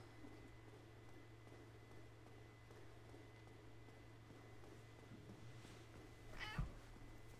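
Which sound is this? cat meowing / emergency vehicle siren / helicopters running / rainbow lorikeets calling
cat meowing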